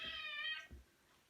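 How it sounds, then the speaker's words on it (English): A cat in a kitchen gives a single clear, bright meow, followed by a faint soft thump, in an otherwise quiet room. "There's the cat."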